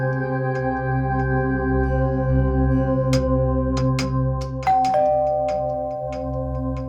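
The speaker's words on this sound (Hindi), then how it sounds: "घंटी बजा।" A doorbell rings with sustained chime tones over a low hum, followed by a second chime that shifts pitch, loud and close.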